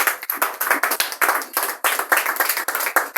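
A church congregation claps in acclaim after a scripture reading, with rapid, steady, close-up applause that continues without a break and has no voices over it.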